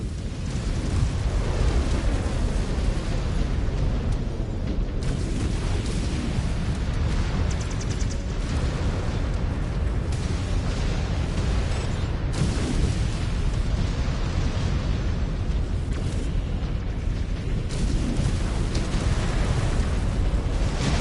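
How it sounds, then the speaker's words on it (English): Cannon impacts and explosions in the video game Mechwarrior 5 Clans, a dense, continuous barrage of booming blasts and rumbling detonations, loud and close throughout with almost no pauses. "The cannon impacts are coming through."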